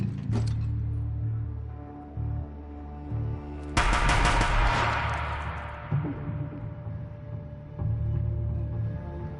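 Burst of gunfire in the video game Horizon Zero Dawn, a sharp rattling volley erupting midway over a steady game music and ambient bed, with a few brief earlier cracks.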